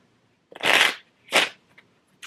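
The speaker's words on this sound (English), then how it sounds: "We'll do one more shuffle." Two quick riffles of playing cards being shuffled, close and crisp, followed by a few soft taps and a brief final flutter.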